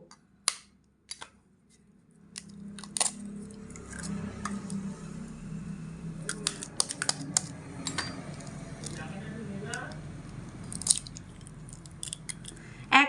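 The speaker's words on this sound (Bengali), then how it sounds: "বাটির মধ্যে এক এক করে সবকটা ডিম ফাটিয়ে নিয়ে নেবো" Five raw eggs cracked one by one into an empty bowl, heard as a series of sharp, close taps and cracks scattered over a faint room hum, with a few louder clicks near the end.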